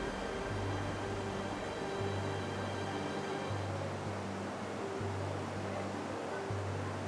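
Steady broadband rush of the San Antonio river current flowing, continuous and fairly loud with a constant low hum beneath, and no voices.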